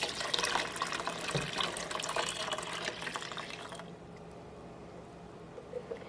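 Espresso being poured into a pot of sugar for a spicy mocha, a close liquid splashing and trickling stream for about four seconds, then quieter background with faint clinks.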